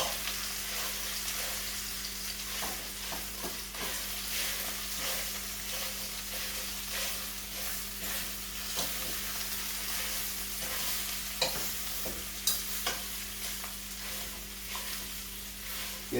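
Lasagna meat sauce is stirred in a pot over heat, giving a continuous sizzling hiss with scattered spoon scrapes and knocks against the pot and a steady low hum underneath.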